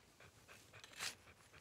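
A dog pants quietly in short, rhythmic huffs, one breath slightly louder near the middle, heard faintly and alone.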